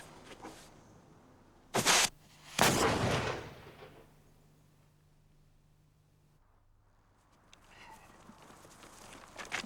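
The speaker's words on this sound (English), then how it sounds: "Prepare to give fire. Have a care. Give fire!" A 17th-18th century musket volley fires on command: two loud, sharp blasts close together with long rolling echo, then a quiet outdoor lull with faint shuffling.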